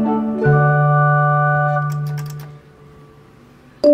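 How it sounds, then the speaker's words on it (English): A 1978 Otis Sito hydraulic elevator bell chimes once with a loud, clear ring that decays over about two seconds, followed by quiet room tone and a sharp click at the end. "Listen to this bell one more time."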